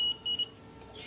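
A small buzzer, wired to a magnetic sensor salvaged from a washing machine module and brought near a magnet, gives a few short, shrill beeps at the start before falling quiet.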